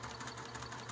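A sewing machine hems a spandex, Lycra and polyester knit prom dress using woolly thread, running with a steady, fast mechanical whir and rapid needle ticking. The sound is faint but continuous.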